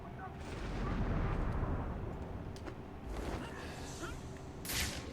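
Distant gunfire and bursts in the video game Batman: Arkham City, a rumbling barrage of shots under a constant low background, swelling and fading over several seconds.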